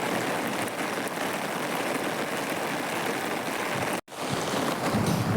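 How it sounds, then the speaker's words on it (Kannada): Heavy rain and wind make a dense, continuous hiss and roar outdoors, loud and steady, with a brief dropout near the end before the downpour resumes. "ಎಷ್ಟು ಮಳೆ ಬರುತ್ತೆ ಗೊತ್ತಾ? ನೋಡಿ ಇಲ್ಲಿ"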